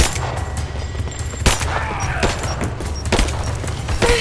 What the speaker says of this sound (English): Give me suppressing fire now! Taking fire! Taking fire!